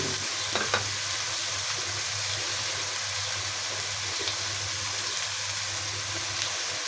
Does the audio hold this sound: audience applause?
no